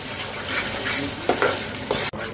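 Mustard spice mix stir-fried in hot oil, giving a dense steady sizzle with a few scraping strokes of the spatula and a sharp knock near the end, close up with no talking.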